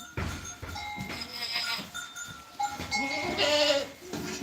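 Goats of a native breed bleating on a farm, several animals calling in overlapping bursts with rustling and movement among them, fairly close.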